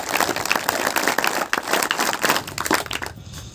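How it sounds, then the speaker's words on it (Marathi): An audience at a yoga event congratulating a performer with loud, sustained clapping that swells and dips over several seconds before cutting off near the end. "सर्वांनी एकदा जोरात टाळ्या वाजवून त्याचं अभिनंदन करा"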